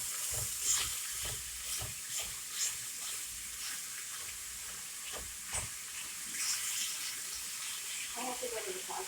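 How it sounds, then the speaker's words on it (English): Ground meat with onion is broken up in a hot pan, giving a steady low sizzle and hiss punctuated by repeated scraping, prodding strokes of a utensil at an uneven pace. "Just gonna break this meat up a little bit."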